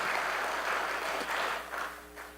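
Congregation applause during a Korean church afternoon praise service, a dense, steady wash of many hands clapping that fills the room, easing slightly toward the end with no voices over it.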